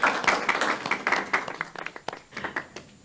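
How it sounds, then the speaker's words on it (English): A crowd claps in applause, a dense patter of hands that gradually thins into scattered claps. "Let's give them another round of applause."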